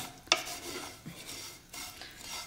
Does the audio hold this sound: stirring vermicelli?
yes